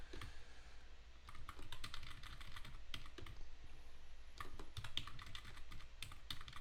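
Typing on a Windows computer keyboard, a steady patter of quick key clicks with irregular bursts and brief pauses, close and fairly quiet, no voices.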